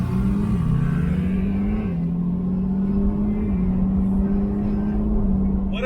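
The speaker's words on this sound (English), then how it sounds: "I just ripped through that tunnel a little bit" Porsche GT3 sports car driving through a tunnel, a steady loud engine drone with a couple of small pitch shifts and a boomy enclosed rumble, heard continuously from inside the car.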